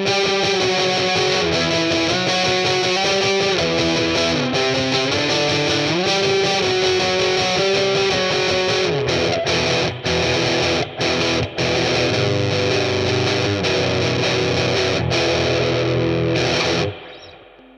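Heavy distorted electric guitar power chords through a BOSS Katana Gen 3 amplifier with boosted lows ring out loud and continuously, a driving riff with thick low end that stops abruptly near the end.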